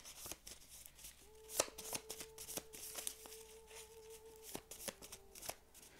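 A deck of playing cards being shuffled in quick riffling bursts, close and fairly quiet, with a few sharper snaps and a soft sustained tone underneath during a tarot-style card reading.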